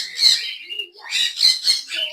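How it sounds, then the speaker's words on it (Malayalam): Pet birds at a bird farm chirp and tweet close by in several quick, bright bursts with short pauses between, loud and clear against a quiet background. "നല്ല സെറ്റപ്പ് കിളികളൊക്കെ ഉണ്ട് കേട്ടോ."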